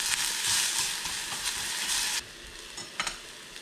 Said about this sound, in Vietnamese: Mình có cái nồi kho tộ này nè, mình bỏ hành tỏi vào đây mình phi nha.